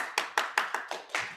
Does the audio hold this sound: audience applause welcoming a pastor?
yes